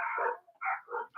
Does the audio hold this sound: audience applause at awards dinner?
no